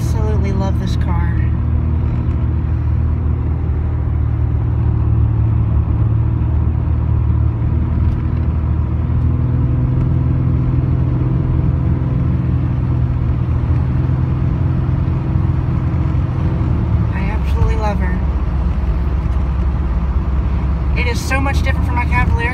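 A 1988 Nissan 300ZX with a V6 engine drones steadily from the cabin while driving, a low continuous rumble under a person talking throughout.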